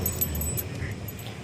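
A dog at home near a garden gives a few faint, brief yips and whimpers, quiet and somewhat distant over low background noise.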